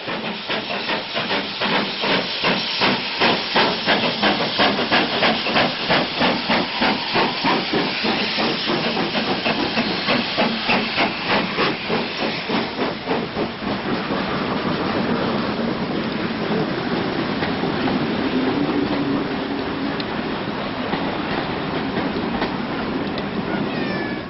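Steam locomotives Foxcote Manor and King Edward I double-head a busy steam gala weekend train towards Minehead, loud and close with rapid rhythmic exhaust beats, hissing steam and wheel clatter that steadies as the train passes.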